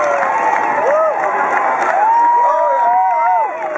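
A street crowd in Dublin cheers for a street performer, a loud sustained wash of whoops and shouting voices with rising and falling yells, steady throughout.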